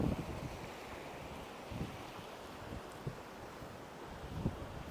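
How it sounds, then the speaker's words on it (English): Ocean waves roll in one after another along the Ratnagiri shore, a steady broadband wash with periodic surges, carried under wind buffeting the microphone. "enjoy the waves coming one after the other"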